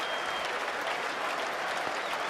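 Spectators at a Somerset cricket match, some on the team balcony, applaud James Hildreth's fifty with loud, dense, continuous clapping that fills the whole moment without letting up.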